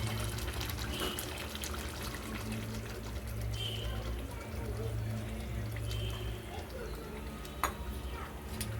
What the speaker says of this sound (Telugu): ఇప్పుడు పులుపు వేసుకుందామండి.